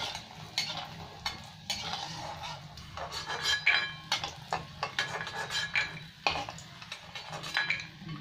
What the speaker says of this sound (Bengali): বড়ি ভাজা তেলের মধ্যে মাছগুলো ভেজে নেব।